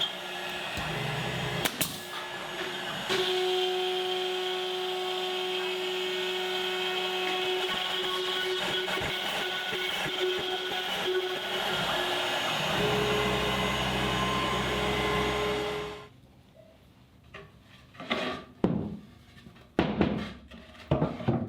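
A CNC router cuts safe shelves from half-inch Baltic birch plywood fastened to a spoil board, a loud steady whining drone with shifting tones for about sixteen seconds, then stops, leaving scattered knocks and clunks.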